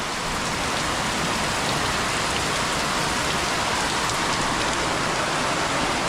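Heavy rain pours down steadily outdoors, a dense, loud, unbroken hiss of drops drumming on surfaces from start to finish with no voices.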